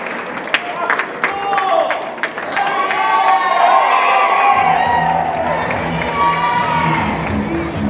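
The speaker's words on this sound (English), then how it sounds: "let's give them a nice big round of applause" School staff at a district back-to-school kickoff applaud and cheer, a sustained crowd roar of clapping, whoops and shouts that swells and holds for several seconds.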